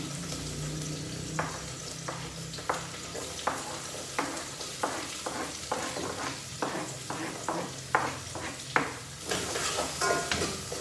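Onions and green chilies fry in a pan with a steady sizzle, while a spatula scrapes and stirs in repeated short strokes, all up close and with no talk.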